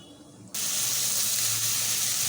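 A spice paste of ginger, garlic, cumin, turmeric and chili goes into a hot pan. After a quiet moment a sudden, steady, close sizzle bursts out and holds.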